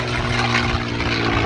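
A Supermarine Spitfire propeller aircraft passes overhead at an air show, its engine a steady, loud drone with a low rumble that holds throughout.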